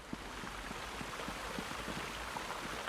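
Soft, steady trickle of flowing water inside a building in Elder Scrolls Online: Necrom, faint and continuous with small splashing patter and no voices.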